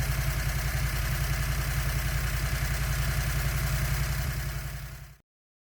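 A Predator 670cc engine with dual carburetors and its air filters removed idles steadily for about five seconds, a loud, even low rumble with a fast pulsing beat, then cuts off abruptly.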